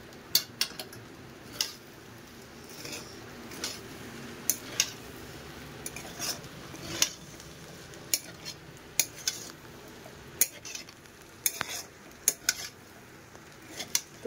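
Pasta in tomato sauce stirred in a pan: soft, low sizzling beneath irregular close clicks and taps of a utensil against the pan, no one speaking.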